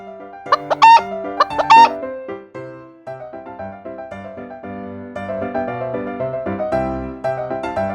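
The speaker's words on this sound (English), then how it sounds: "Chicken." A chicken and a rooster on a farm: loud crowing calls open the sequence, followed by a continuous run of clucking, all close and clear with nothing else heard.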